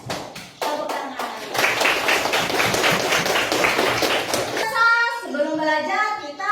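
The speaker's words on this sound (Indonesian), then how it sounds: "Tepuk tangan." Classroom of children clapping hands together, a few sharp claps at first and then a loud, rapid burst of many hands, followed by young voices chanting in unison.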